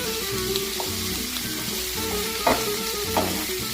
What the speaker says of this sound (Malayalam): ഈന്തപ്പഴം ഒന്ന് വഴറ്റി കഴിഞ്ഞതിന് ശേഷം നമ്മുടെ പഴുത്ത ഈന്തപ്പഴം കൂടി ഇടുന്നുണ്ട് കേട്ടോ